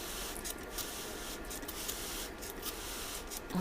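A water spray bottle mists alpine strawberry seeds with a soft, hissing spray in short bursts with brief gaps between them, close by and fairly quiet.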